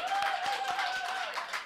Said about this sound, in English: A big round of applause to everybody else who's played tonight.